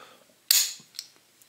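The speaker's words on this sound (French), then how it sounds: "si je l'arme comme ça, on entend le bruit" The hammer of an old 20-gauge shotgun is cocked, giving one sharp metallic click followed by a couple of faint smaller clicks, close and quiet otherwise.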